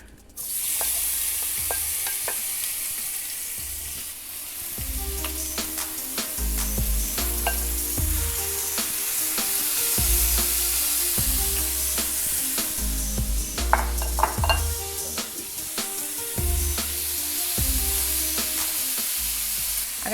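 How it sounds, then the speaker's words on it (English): Mushrooms and marinated bulgogi beef sauté in a little oil for Korean japchae, sizzling continuously under frequent scraping stirs and utensil taps, with a low melodic backing underneath throughout. "going to be sauteing my mushrooms with my marinated bulgogi from last night."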